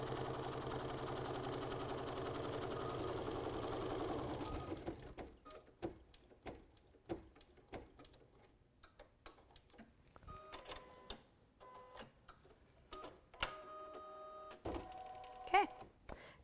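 Embroidery machine running steadily for about four seconds while finishing a design on a Kimberbell crossbody bag project, then stopping, followed by faint clicks and handling of the hoop.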